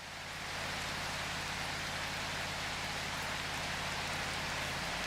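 Steady, dense rain falling in the video game Prologue: Go Wayback!, a continuous hiss with no talk, faintly swelling at the start and then holding even throughout.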